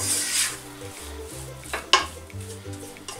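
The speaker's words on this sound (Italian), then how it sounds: "abbassiamo il gas e iniziamo a mescolare bene" Tortelli di Carnevale dough mixture stirred in a non-stick pot on a lowered gas flame, with a spoon scraping and knocking against the pot in an uneven rhythm over low background music and one sharper clink.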